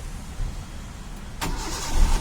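A Hyundai Santro Xing with 227,000 km on it cranks and fires up, a short starter whir followed by the engine catching and settling into a close, steady idle.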